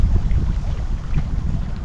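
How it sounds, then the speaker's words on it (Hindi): Wind-driven waves on Shahpur dam at Fateh Jang, a loud continuous low rumble of lapping water mixed with heavy wind buffeting the microphone, with no voices. "ये लहरों की आवाज़ है, क्योंकि हवा चल रही है"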